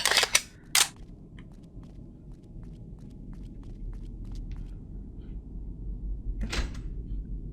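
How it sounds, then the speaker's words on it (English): A switch being flipped in the 2010 FPS Creator game Euthanasia: a few sharp, loud clicks at the start, then faint ticks over a low ambient hum, and another bright burst near the end. "It sounds like a switch, but I can't see a switch."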